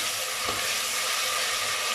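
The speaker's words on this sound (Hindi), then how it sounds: "अब इसमें अदरक लहसुन का पेस्ट और हरी मिर्ची डालेंगे। इसको भी 1 मिनट भून लेंगे।" Ginger garlic paste and green chillies frying in hot oil for Kashmiri daal, giving a steady, loud, close sizzle with a brief stir partway through and no voices.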